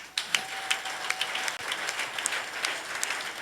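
A church congregation applauds the Lord with steady, dense clapping that fills the room, sharp individual claps standing out above the wash for several seconds.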